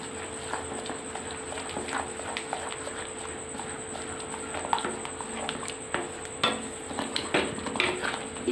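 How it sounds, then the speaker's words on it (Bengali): A spoon stirs powdered milk into palm fruit kheer cooking in a pot on a gas stove, giving repeated close scraping and clinking knocks against the pot at an uneven rhythm. "এবার আমি এই যে গুঁড়ো দুধটা আমি দিয়ে দেবো এবার ভালো করে মিশিয়ে নিব গুঁড়ো দুধটাকে"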